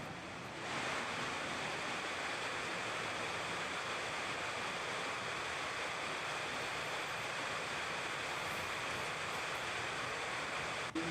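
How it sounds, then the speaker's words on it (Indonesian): A flooded Tukad Badung river in Bali surging after heavy rain, giving a steady, dense roar of rushing water that holds constant throughout, with no voices. "Hujan deras sejak Selasa malam turut meningkatkan aliran air di Sungai Tukat Badung"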